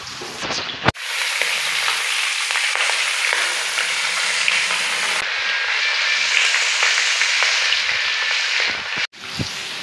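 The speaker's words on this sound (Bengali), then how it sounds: "এই দেখো ভাই, মাছ ভাজতেছে, মাছ ভাজা হইব।" Pangas fish pieces fry in hot oil with a loud, continuous sizzle and dense crackling spatter that hardly changes over several seconds. There are brief cut-offs near the start and end.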